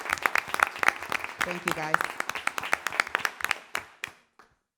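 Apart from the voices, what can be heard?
round of applause for students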